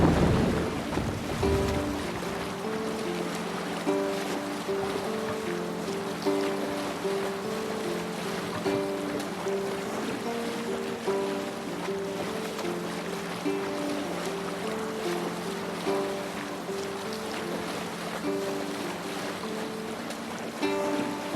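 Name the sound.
Viking longship sailing at sea in Assassin's Creed Valhalla video game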